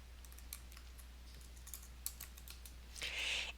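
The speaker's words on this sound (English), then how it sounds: "And I'm going to type in Corain." A computer keyboard is typed on in a quiet room with light, irregular clicking keystrokes, close and fairly soft, ending in a quick brighter burst of keys.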